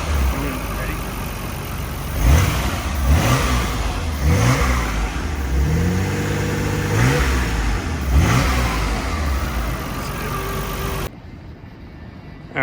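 A 2001 Nissan Skyline R34 V-spec II engine, warmed up, is blipped in a series of about five sharp revs that rise and fall back to idle, loud and close, with a steady idle rumble between hits.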